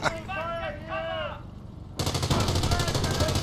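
Tank cannon fire in a World War II armoured combat video game, a sharp burst of dense gunfire and explosion noise that stays loud after a quieter stretch with a tonal sweeping sound.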